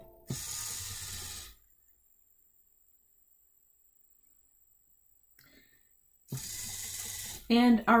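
A servo motor on a robot arm, controlled by a PSoC, makes two short, close grinding whirs separated by several seconds of near silence. A brief voice is heard at the end.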